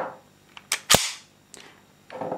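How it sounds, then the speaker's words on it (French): A Hi-Capa 5.1 airsoft pistol has its slide racked and locked back, producing a few sharp metallic clacks and snaps, one noticeably louder, close up with no talking. "La culasse se bloque en arrière sans problème."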